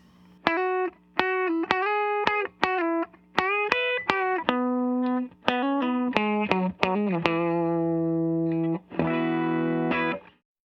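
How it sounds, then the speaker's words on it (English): An electric guitar with a lightly driven boost tone from a Line 6 M13 effects unit plays short bursts of notes and bends, separated by brief gaps, ending on a held chord. "I have just a little bit of gain, and that's basically for my boost."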